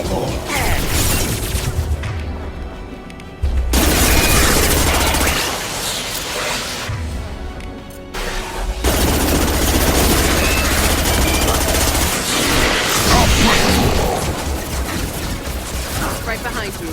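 Gunfire in the video game Mass Effect 2, loud dense bursts of automatic shots and booms nearly filling the stretch, broken by brief quieter gaps, with a voice shouting in the middle of the fight.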